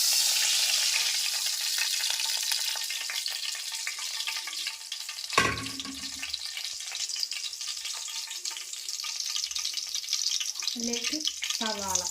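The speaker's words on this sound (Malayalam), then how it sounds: "ഞാൻ ആ ചിക്കൻ ഫ്രൈ ചെയ്ത ആ എണ്ണ തന്നെ ഇതിലേക്ക് ഒഴിച്ചു കൊടുക്കുന്നുണ്ട്" Leftover oil from fried chicken is poured into a hot pan for chicken curry, hissing and sizzling steadily, with a sharp clatter midway and a few later knocks against the pan.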